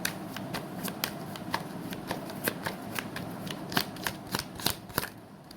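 Tarot cards being shuffled by hand before a single card is drawn: a steady patter of soft riffling snaps and flutters, close and fairly quiet, repeating through the whole stretch with no voice.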